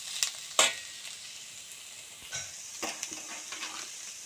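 Ginger garlic paste hitting hot oil in a pan, a soft steady sizzle with a few stirring scrapes and light clinks at the start and middle.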